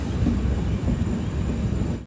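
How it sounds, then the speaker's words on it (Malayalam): Poorna Express train rolling into Honnavar railway station on the Konkan line, a steady loud low rumble of wheels and carriages throughout, ending abruptly, with no voices. "ട്രെയിൻ ഇപ്പോൾ ഹൊന്നാവർ റെയിൽവേ സ്റ്റേഷനിലേക്ക് എത്തിയിരിക്കുകയാണ്."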